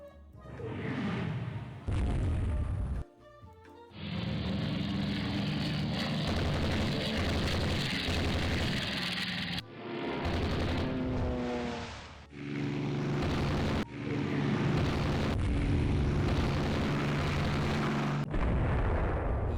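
A naval torpedo attack in the game Rule The Waves 3, with Imperial China fighting Russia, brings repeated heavy explosions in long rumbling bursts separated by abrupt cuts.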